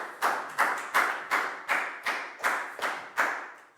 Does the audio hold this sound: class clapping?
yes